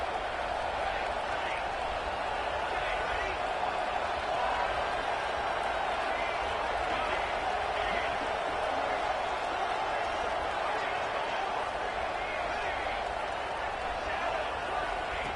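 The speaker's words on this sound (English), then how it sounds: "Listen to the crowd energy here in the early going." Steady roar of a large crowd filling a college football stadium early in an NCAA game, a dense, constant wash of cheering that holds level throughout with no clear breaks.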